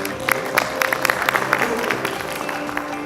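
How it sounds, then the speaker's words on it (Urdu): An audience at a talk event claps as a speaker is welcomed onto the stage, with irregular, moderately loud hand claps over a room hum. "آپ کی بھرپور تالیوں میں اسٹیج پر تشریف لا رہے ہیں"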